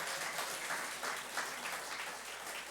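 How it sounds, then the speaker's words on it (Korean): Steady applause from a church congregation during a Sunday worship service, a continuous even patter of many hands clapping at moderate, fairly distant loudness with no voices over it. "박수 쳐주세요."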